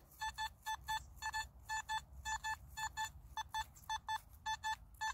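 A Simplex metal detector at full sensitivity gives a rapid series of short, bright electronic tone bursts, faint and repeated in quick pulses over a low background hum, with no voices.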